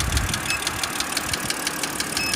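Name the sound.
car engine idling during cylinder coil misfire test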